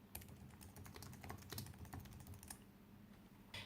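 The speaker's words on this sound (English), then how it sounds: "So I'm going to type that in." Rapid keystrokes on a computer keyboard as a web search is typed into a browser, a steady run of close, crisp clicks with a few louder taps, no talking.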